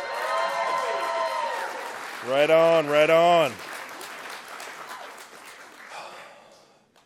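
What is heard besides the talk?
applause, audience clapping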